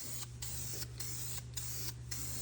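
Spray paint hisses onto a wheel rim in four short, even bursts with brief pauses between them, close and steady over a low electrical hum.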